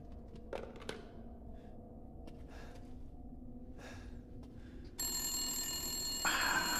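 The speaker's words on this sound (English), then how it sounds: "In my head, I'm like, that phone's gonna ring." Telephone ringing in Resident Evil Village, a bright electronic ring that comes in partway through and holds steady over a dim ambient backdrop, with a faint gasp before it.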